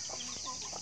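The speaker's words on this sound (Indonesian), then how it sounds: "jemur ayam hutan hijau" Green junglefowl give short clucking calls outdoors in the morning sun, faint and brief over a steady background hiss.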